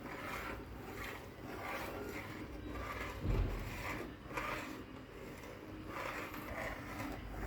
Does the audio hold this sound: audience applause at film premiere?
no